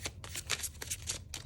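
Tarot cards are shuffled by hand in quick, papery riffling bursts, close and steady, with no talk over them.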